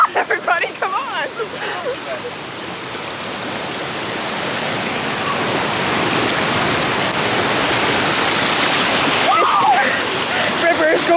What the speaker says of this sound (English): This river is going 40 billion kilometers per hour.